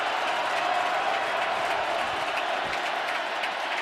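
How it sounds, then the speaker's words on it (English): A stadium crowd at an NFL game between the Ravens and the Steelers roars steadily, a dense, continuous wash of cheering and noise from thousands of fans that holds at an even, loud level throughout. "Crowd is revved up."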